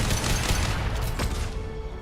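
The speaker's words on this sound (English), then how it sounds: "Watch out, flashbangs." Flashbang grenades going off in Mass Effect, a dense rumbling blast with a sharp crack partway through, loud and continuous over a short stretch of combat noise.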